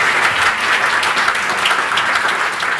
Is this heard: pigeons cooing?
no